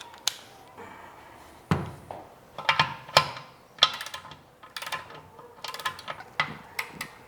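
A torque wrench ratchets on a 19 mm oil temperature sensor on a Katech LS7 engine, giving a scatter of sharp close clicks and ticks in irregular bursts against a quiet garage background.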